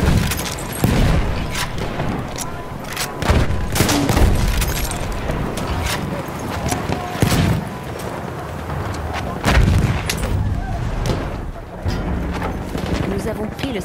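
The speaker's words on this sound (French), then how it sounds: "Mitrailleuse ennemie, par là." Enemy machine gun and artillery fire in a combat video game: loud, heavy booms and bursts of gunfire keep recurring throughout, with voices calling out in French over the battle.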